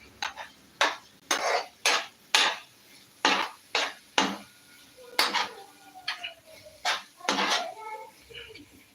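A spoon scrapes and knocks against a pan while egg roast curry is stirred, a series of about a dozen sharp metallic clanks, with a voice talking in between.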